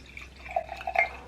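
Wine pouring into a glass in a brief, faint trickle with a few soft drips, close by and otherwise quiet.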